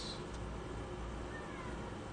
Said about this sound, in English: got my cat meowing at me right now